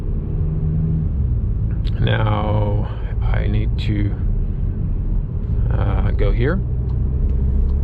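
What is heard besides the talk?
Škoda Superb Combi car driving at night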